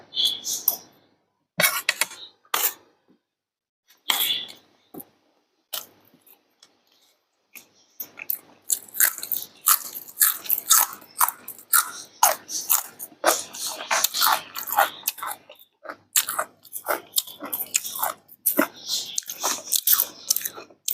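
Fresh raw vegetables eaten uncooked with Thai chili paste produce crisp bites and crunches, sparse at first and then dense irregular chewing for most of the stretch, close up with no talk.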